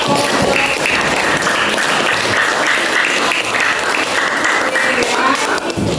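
Sustained applause from a sixth-grade primary school class during an Indonesian language lesson, loud and continuous, many small hands clapping together in a steady roar.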